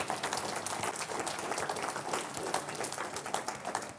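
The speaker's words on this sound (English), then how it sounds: "So round of applause for Dream for putting this all together." An audience at a convention talk gives a round of applause, a dense, steady patter of many hands clapping that stays fairly soft throughout.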